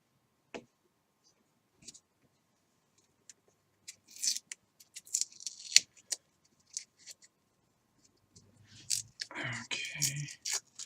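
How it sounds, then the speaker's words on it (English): Model rocket tape is cut and peeled during a rotor-blade build, heard as faint scattered snips and clicks followed by a crackly peeling rasp near the end, in an otherwise quiet room. "So put a little cut in the tape and I can peel it."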